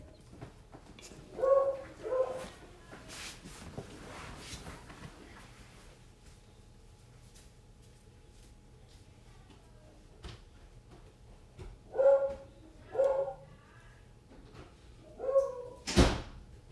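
A dog barks loudly indoors in several short bursts, a pair near the start and more clusters later, with quiet gaps between them and a sharp knock or door sound at the end.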